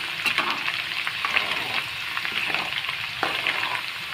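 Small amla gooseberries frying for pickle in a pan, a steady close sizzle and crackle with occasional stirring scrapes and taps, no talking.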